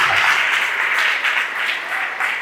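A church congregation applauds during a Portuguese-language sermon, with loud, dense, continuous clapping that holds steady throughout with no voices over it.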